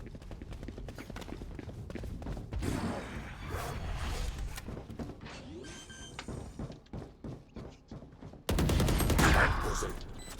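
Automatic gunfire crackles in a Valorant match, with rapid bursts and scattered shots through the first stretch, then a loud, dense volley near the end, mixed with game sound effects.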